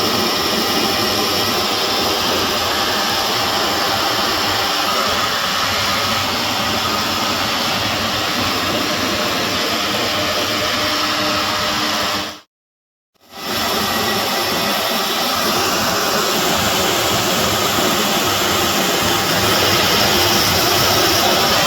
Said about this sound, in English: So I stole my wife's hairdryer. I'm gonna get in there and we're gonna thaw this thing out.